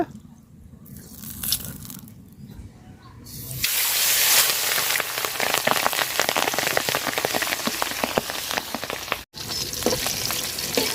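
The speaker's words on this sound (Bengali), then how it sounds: "তেল দিয়ে দিলাম মাছ ভাজার জন্য।" Pabda fish frying in hot oil in a home kitchen: a loud, steady, crackling sizzle that swells after a quieter start, with a brief dropout near the end and continuous spattering throughout.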